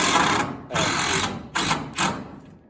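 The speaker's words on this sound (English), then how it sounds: "try to put screws in at the bottom through the sole plate" A power screwdriver drives screws through the sole plate of an interior wall into the framing below, giving four close, high-pitched whirring bursts with short gaps between them.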